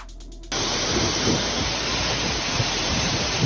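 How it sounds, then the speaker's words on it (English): Rain from a single cloud pouring over a tiny area, switching on abruptly as a loud, steady hiss that holds without pause from then on. "when a single cloud dumps rain over a tiny area, sometimes just meters apart"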